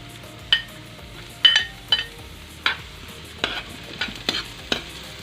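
Garlic added to a pan alongside ginger for sinigang sa miso, heard as a soft frying sizzle with a series of sharp stirring clinks and scrapes spaced about every half second, close by and with no talk.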